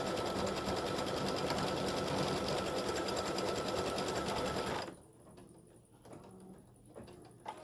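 An embroidery machine stitching a St. Patrick's Day gnome applique design gives a loud, steady, fast mechanical whir up close for about five seconds, then stops, leaving faint clicks and shuffling.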